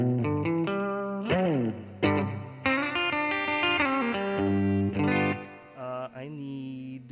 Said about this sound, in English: That might be a little too much reverb for right now.